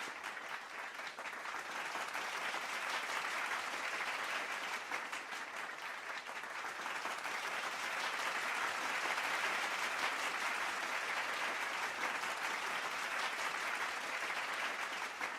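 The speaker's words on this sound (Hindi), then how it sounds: "एक बार जोरदार तालियों से उनका अभिनंदन करिए" Audience applause honoring achievers at a national achievement day celebration, steady sustained clapping from a large crowd lasting throughout, fairly even in loudness with no talk over it.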